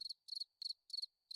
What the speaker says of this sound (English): Yeah, I heard the crickets.